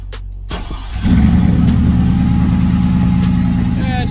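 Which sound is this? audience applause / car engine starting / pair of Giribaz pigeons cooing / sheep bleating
car engine starting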